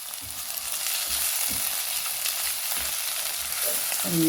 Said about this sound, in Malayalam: പൊടിച്ച് വെച്ച ഈ കോഴിമുട്ട നമുക്ക് ഈ മിക്സിലേക്ക് ഇട്ട് കൊടുക്കാം ഇത് നന്നായി മിക്സ് ചെയ്യാം